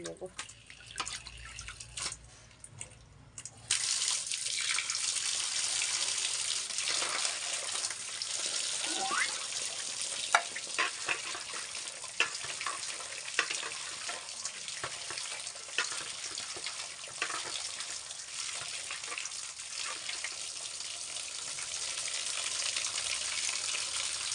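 Pabda fish being rinsed under a running kitchen tap: a steady, close rush of water starts a few seconds in and continues with small splashes and drips.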